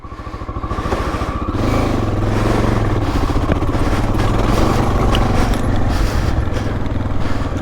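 A 1984 Honda XL600R dual sport motorcycle's single-cylinder engine runs loud and close, with a steady throbbing beat that builds after a second and holds through the clip, with a little clatter and no talk.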